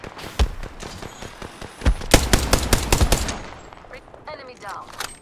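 Video game gunfire: a single shot, then a dense burst of rapid automatic fire with sharp, loud repeated cracks, tailing off into quieter game sounds.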